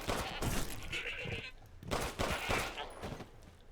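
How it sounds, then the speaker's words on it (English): Goats in the Resident Evil Village video game give harsh, wavering bleats in several bursts, mixed with game sounds and sharp crackling noises, moderately loud in the mix. "these goats fight back for some reason"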